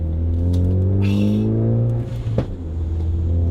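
Ford Focus ST engine gives a short, sharp throttle blip and revs up from a steady idle rumble inside the car, then settles back down; close and loud, no talking.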